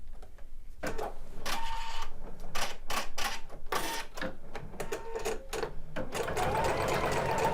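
An embroidery machine stitches a satin stitch on a 2D crazy quilt block, a fast mechanical needle chatter in bursts with brief pauses between runs, steady and close, with no talk over it.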